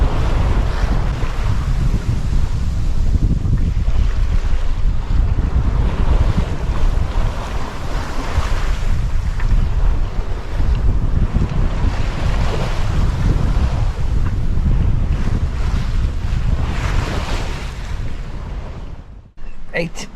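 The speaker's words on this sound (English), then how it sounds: "You can hear the wind, you can hear the waves" Strong wind and crashing waves on a sailing boat passage at sea, a loud continuous roaring rush with surging swells and heavy wind buffeting the microphone, lasting throughout.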